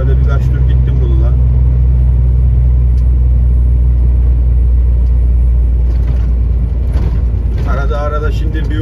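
Steady, loud low rumble of a car engine while driving on the road, continuous throughout with faint road noise above.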